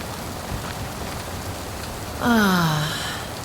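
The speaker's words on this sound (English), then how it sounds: "Rain's actually quite refreshing." Soft steady rain falls throughout in the video game Born Punk, with a brief descending sigh-like tone near the end, no speech.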